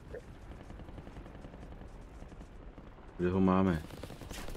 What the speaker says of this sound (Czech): Už po mě střílí